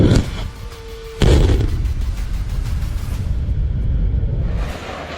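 A BrahMos missile strike on an airbase: a sharp blast at about one second, then a sustained loud rumbling roar that slowly tails off, with an earlier faint whoosh.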